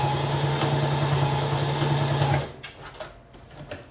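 A sewing machine stitches fabric for an apron, running in a fast, steady mechanical whir for about two and a half seconds before stopping, followed by soft handling clicks and rustles of cloth.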